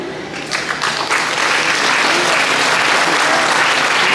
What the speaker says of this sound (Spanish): Que se escuchen los aplausos público presente.